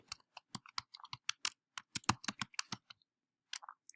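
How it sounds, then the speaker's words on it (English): Typing on a computer keyboard, a close, quiet run of crisp irregular key clicks lasting about three seconds, then a short pause and a few more taps, with no talk. "So I'm going to type his name in here"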